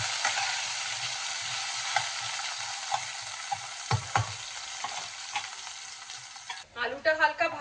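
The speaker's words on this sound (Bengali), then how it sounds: "দিয়ে আলুগুলোকেও আমি একটু ভেজে নেব।" Cut potatoes fry in oil in a pan for a vegetarian thor ghonto, giving a steady moderate sizzle with regular scraping stirs, then a louder burst of spattering near the end.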